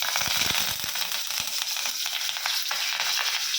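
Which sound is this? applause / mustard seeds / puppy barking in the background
mustard seeds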